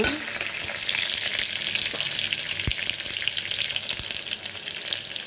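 Small cut onions and curry leaves frying in oil in a pan for a cluster beans curry, a steady bright sizzle with occasional stirring clinks and scrapes.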